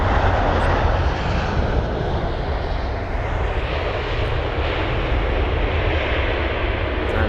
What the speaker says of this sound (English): So this is the 787 Dreamliner from Abu Dhabi.